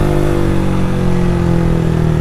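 A Honda Start 160 motorcycle fitted with a sport exhaust is held at high revs, giving a loud, close, steady, raspy engine drone with strong low harmonics and no talking.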